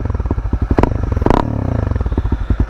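A 2021 Honda CB300R fitted with an aftermarket exhaust idles close by with a loud, choppy, pulsing burble, then gets a quick throttle blip that rises to a sharp rasp before settling back to a lumpy idle.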